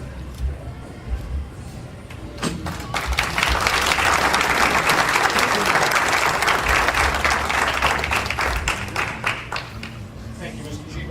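Audience applause at an Eagle Scout ceremony: after a quieter opening, a crowd bursts into clapping that swells into a full, steady ovation and then gradually thins toward the end.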